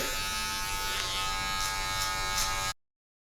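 Electric hair clippers fitted with a number 1 guard buzz steadily while cutting hair, a close, constant whine with slight changes as they pass over the head, cutting off abruptly at the end.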